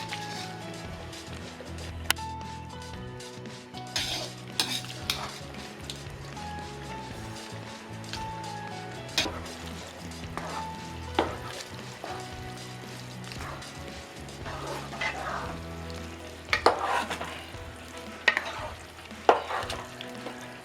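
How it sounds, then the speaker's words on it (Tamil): Mushroom gravy is stirred into biryani in a pot, with soft wet scraping and sloshing strokes over a faint sizzle, close up, with occasional sharper knocks of the spoon against the pot. "கரெக்டாக மிக்ஸ் பண்ணியாச்சு."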